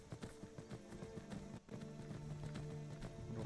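A horse in the video game Skyrim clip-clops along in a steady run, its rhythmic hoofbeats repeating over a constant background game soundscape.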